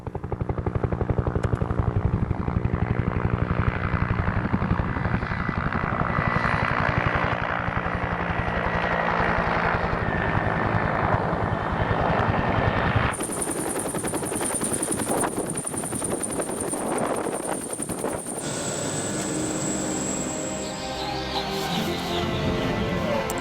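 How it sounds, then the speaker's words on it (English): A helicopter arrives for a pickup on a vast ice mass, its loud, steady rotor and engine drone dominating throughout, shifting in tone and intensity partway through as it draws close. "before the chopper woke us both from our dream"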